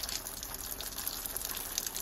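Water gushes onto a hot surface, a steady, loud hiss and rush that holds evenly for about two seconds with no voices.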